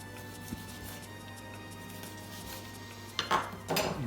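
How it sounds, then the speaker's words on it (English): A knife cuts the bone off a grilled tomahawk pork steak on a board, with a few soft scrapes and clinks of metal near the end over a steady background hum. "So now what we can do is just cut the bone off."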